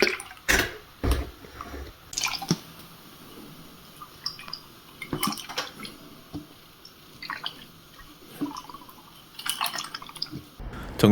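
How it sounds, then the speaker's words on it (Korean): Water dripping in short, irregular drops and splashes, fairly close, heard while a worn Mercedes-Benz shock absorber is being examined, with quiet pauses between the drips. "물소리가 나는데."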